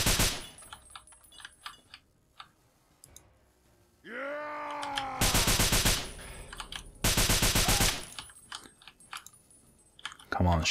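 Minigun bursts from the video game Fallout 3: a rising spin-up whine followed by two loud, sustained, rapid-fire volleys, set between quieter game sounds with no speech.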